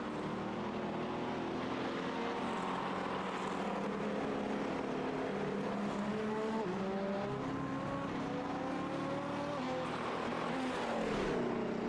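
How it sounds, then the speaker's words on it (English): Race car at Le Mans dropping through the gears into a right-hand corner, engine note stepping up and down in a sustained loud howl with rising and falling pitch sweeps, no talk over it. "Hear the downshifting as he navigates the right-hander."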